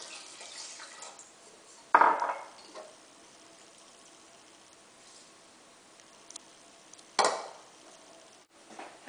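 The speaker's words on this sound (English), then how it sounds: "Right now, about 1 cup of water." About a cup of water poured into a pot of rice with cherries during home cooking, two short splashy pours separated by quiet kitchen background, with a small clink near the end.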